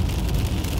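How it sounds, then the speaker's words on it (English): Heavy rain drums on a car while it drives along the road, a loud, dense, steady hiss of drops with road noise underneath and no speech. "it is raining cats and dogs out here"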